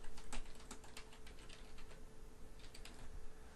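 Continuous typing on a computer keyboard, a quick run of light plastic key clicks with an uneven rhythm, close and fairly soft, with no voices.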